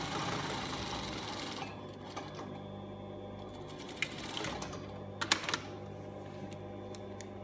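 A sewing machine stitches a pocket onto a bag, its motor whirring in a fast, continuous near hum, then slowing into softer running with a few sharp clicks and taps.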